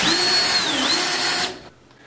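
A power drill whines at high speed drilling holes into a baseboard on a vertical CNC machine, pitch dipping briefly under load before the motor cuts off and spins down, close and loud.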